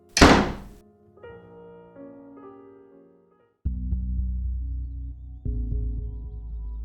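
A door slams shut with one loud, heavy thud at the start, followed by a low resonant ringing tone that sustains and shifts in pitch.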